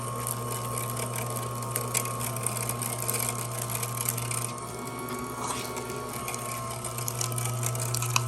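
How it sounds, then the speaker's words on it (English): An Amzchef slow masticating juicer with meat grinder attachment grinds chicken with the skin on, a steady loud motor hum with a low mechanical whir, continuous and close, with a brief dip in pitch midway. "it can grind chicken and the skin at the same time, no problem, first time through"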